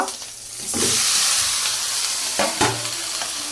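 Green chilies and washed plantain hit hot oil on a stove, bursting into a loud, steady sizzle with a sharp hiss that swells and flares again as pieces are added and stirred.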